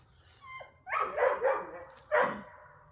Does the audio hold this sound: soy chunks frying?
no